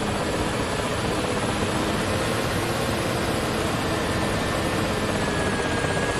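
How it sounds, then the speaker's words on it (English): The turbines of a Ka-50 Black Shark helicopter in the DCS flight game whine at varying RPM, giving a loud, dense, constant engine roar with a thin high tone running through it. "the RPM of the turbines are going up and down"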